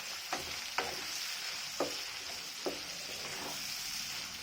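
Chillies frying in a pan for a sweet-sour pickle, a steady close sizzle with four or five distinct scraping stirs of a spatula spaced through it.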